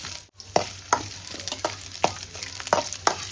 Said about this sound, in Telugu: కొబ్బరి, కొంచెం నూనె వేసుకోవాలి. నూనెలో మంచిగా కొంచెం కలర్ వచ్చే వరకు వేసేసుకొని